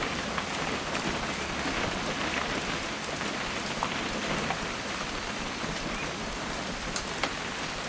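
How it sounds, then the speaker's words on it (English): Steady rain in a video game pours down continuously, a dense hiss of drops pattering on surfaces, even and unbroken with no voices. "It's gonna rain the whole weekend, isn't it?"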